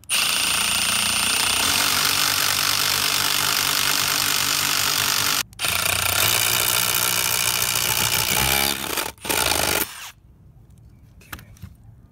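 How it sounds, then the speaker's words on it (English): A loud, steady drill drone boring through wood runs for about ten seconds with two brief pauses, then cuts off, leaving quiet with a few faint clicks. "I'll probably drill from both sides and try to meet in the middle."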